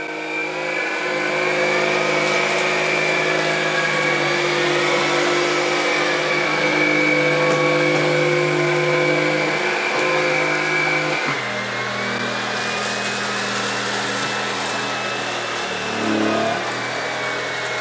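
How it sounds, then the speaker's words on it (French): Tineco Pure One Station 5 cordless vacuum running continuously on the floor, a loud steady whine whose pitch and suction shift partway through as it reacts to dust, with no speech. "vous allez entendre que la puissance d'aspiration va augmenter dès que l'aspirateur va"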